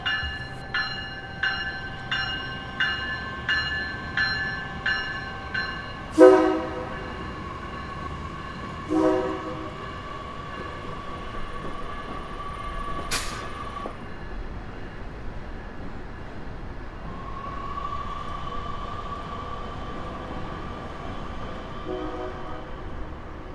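Outbound Metro Electric train rolling slowly through Van Buren Street station in Chicago, giving a regular series of clanking wheel beats, then a few sharp squeals and tonal hums as it passes, fading to a low rumble.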